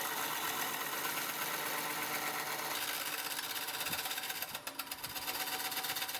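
A woodturning lathe runs steadily while a dull gouge rounds over the edges of a large pine segmented ring, giving a continuous whirring, scraping drone with rough, uneven cutting noise and a brief dip near the end.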